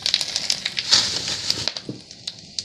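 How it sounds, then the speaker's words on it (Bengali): Whole cardamom, cinnamon, cloves, cumin seeds and bay leaves crackling in hot oil for a vegetarian small-potato dish, with a steady close sizzle and scattered sharp pops that ease off toward the end. "প্রথমে ফোড়ন করে নেব।"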